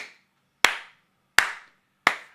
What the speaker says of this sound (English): I'm clapping right now.